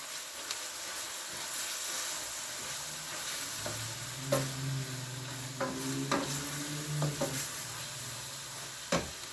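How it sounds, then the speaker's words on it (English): Food being stirred in a hot pan for a tuna dish with mashed potatoes and broccoli, a steady sizzle under a few scraping spoon strokes and clinks, close and moderately loud with no talking. "Stir."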